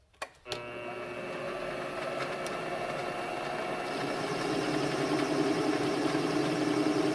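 A metal lathe fitted with an ESP32 electronic leadscrew takes a slower finishing pass at higher spindle speed, producing a steady mechanical drone with faint whine that swells slightly as the cut continues, after a couple of sharp clicks at the start.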